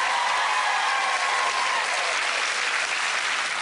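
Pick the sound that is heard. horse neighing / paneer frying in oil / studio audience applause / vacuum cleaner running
studio audience applause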